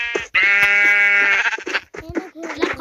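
Close, loud sheep bleating on a farm: one long sustained wavering bleat, then several shorter broken bleats after a brief pause.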